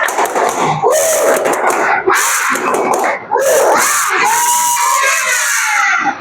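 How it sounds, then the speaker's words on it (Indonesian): Schoolchildren in a classroom perform the tepuk semangat chant, shouting in loud unison with bursts of sharp rhythmic clapping between the spoken lines, energetic and close. "Sebelum kita pulang, biar lebih semangat, kita tepuk semangat"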